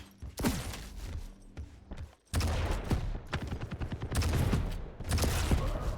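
Rapid railgun shots and other weapon fire from a Quake Champions duel, sharp cracks repeating in quick succession with a dense, loud, continuous layer of combat noise and a brief lull partway through.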